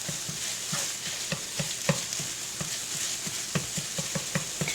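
Sausage frying in a pan for gravy, a steady sizzle with regular scraping and tapping strokes of a spatula against the pan, close and moderately loud with no talk.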